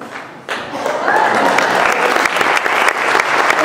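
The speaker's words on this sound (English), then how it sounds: "Yeah, you can applaud. He deserves it." Applause breaks out for a trumpet player at a live music performance. After a brief quieter moment the clapping swells and holds steady from a full audience, loud and close with no talk over it.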